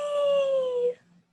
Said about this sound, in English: It's a dog, right?